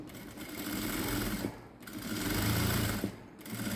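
A sewing machine double-stitches a princess-cut blouse with balloon sleeves, running in two sustained bursts of rapid mechanical chatter separated by a brief pause, close and clear with no talking.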